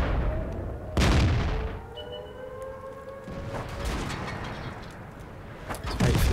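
Artillery fire in the World of Tanks video game, with loud booming shots near the start and end and rising whistling tones in between, no talk over it.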